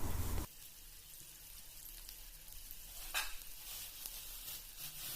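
Chopped onion sautés in a pan with already-fried brinjal, giving a soft, continuous sizzle. A louder burst of frying opens it, then it eases into a quieter, steady hiss with a faint stir partway through.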